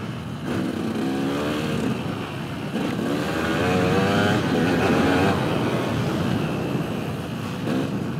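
A small single-cylinder beginner motorcycle revs and pulls steadily while being ridden, its engine drone rising and falling close by over eight seconds with wind rushing past.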